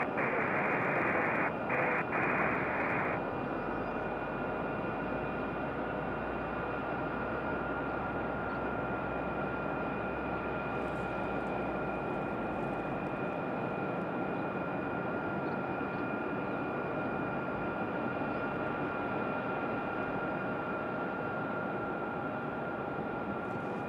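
A Delta Boeing 737 MAX airliner departs from Raleigh-Durham International Airport, its jet engines producing a sustained broad roar heard from a distance, steady throughout with a brief tonal burst early on.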